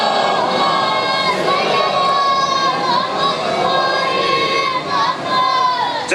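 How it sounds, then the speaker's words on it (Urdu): A large congregation at a Muharram majlis recites salawat in unison, a dense, loud, sustained chorus of many voices chanting together, with shouts rising above the mass of sound throughout. "ان کی بلندی درجات کے لیے ایک مل کے صلوات پڑھیں۔"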